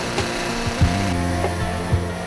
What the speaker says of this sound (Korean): 40kg의 차감기를 번쩍 들어 작업을 시작하는